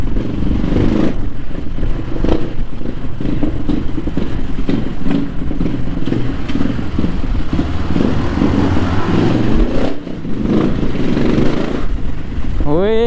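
A motorcycle ridden on the road from Helambu to Kathmandu, its engine droning steadily up close with wind buffeting and occasional shifts in pitch, the rider talking over it.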